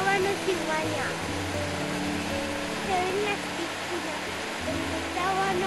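Water flowing at the source of the Urederra river, a steady rushing wash under a person talking quietly.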